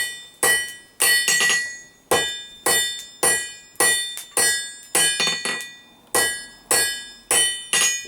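Hot steel is hammered at a forge to draw a square taper, with sharp, ringing anvil strikes, some doubled, landing about once a second in a steady rhythm, loud and close.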